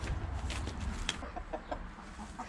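Poultry, including ducks, cluck and chatter in a garden enclosure in a short burst of soft, close calls over faint background noise, with no talk.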